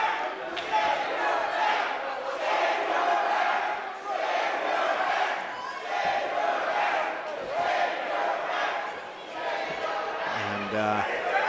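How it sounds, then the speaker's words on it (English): A wrestling crowd at a Relentless Wrestling show in Airway Heights keeps up a steady, loud rhythmic chant aimed at Danhausen, the voices blending into a continuous roar of the arena. "Not the most flattering chant from the crowd here in Airway Heights"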